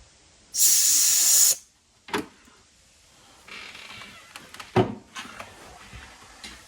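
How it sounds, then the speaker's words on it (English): A single sharp, loud burst from a can of compressed air hisses for about a second, followed by quieter handling clicks and faint rustling. "you could take a little can of air and spray in the little holes after you clean it."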